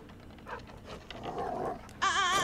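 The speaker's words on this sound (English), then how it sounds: "Oh, that's dog." Dog whimpering in a scene from The Walking Dead, a few soft whines building to a louder, sustained high-pitched whine at the end, heard up close with no talk.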